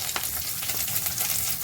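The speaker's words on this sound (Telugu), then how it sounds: "దీంట్లో సన్నగా కట్ చేసి పెట్టుకున్న ఆనియన్, పచ్చిమిర్చి వేసుకుని ఫ్రై చేసుకుందామండి" Thinly sliced onion and green chillies sizzle in hot oil in a pan, a steady close crackle with brief stirring scrapes and no voices over it.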